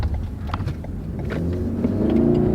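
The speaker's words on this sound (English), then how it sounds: "Nice acceleration." A car picks up speed on a rough, pothole-strewn road, its engine hum rising steadily and growing louder toward the end, heard close from inside the cabin with no talk.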